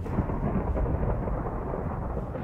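Rolling thunder from lightning in a Minecraft FNAF game, a loud, continuous low rumble filling the whole stretch with a steady rain-like hiss and no speech.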